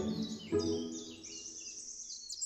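Forest birds chirp and sing in short bright phrases, one louder note near the start, with a sustained high trill continuing alone.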